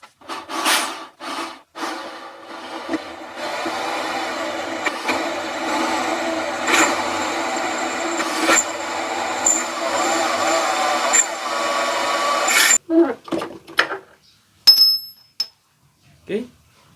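A power drill whirs steadily for about ten seconds boring an 8 mm hole, then stops abruptly, followed by a few clicks and handling knocks.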